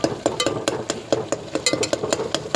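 A spatula chops and stirs mushroom masala in a pan over medium flame, making rhythmic close metallic taps and scrapes over a soft sizzle, with no talking.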